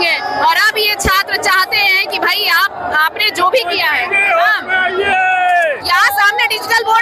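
A student protest crowd hoots and shouts loudly and close, rising and falling voices overlapping in a dense babble of whoops and chatter.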